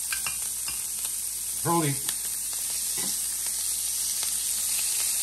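Shrimp and scallops frying in a garlic wine sauce, a steady bright sizzle running throughout, close and continuous, with a brief low voice and a few light clinks of utensils.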